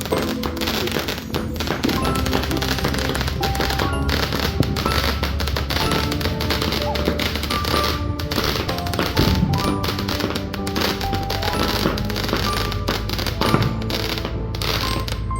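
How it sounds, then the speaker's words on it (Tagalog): Dense, continuous crackling and popping of New Year fireworks going off in rapid succession, loud and nearby, with occasional heavier booms mixed in. "Ang daming fireworks ngayon ah!"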